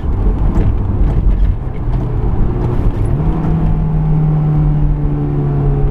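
A 2008 Honda S2000's engine drones steadily through a downshift, its pitch settling and then holding a sustained tone, heard from inside the car with road noise underneath.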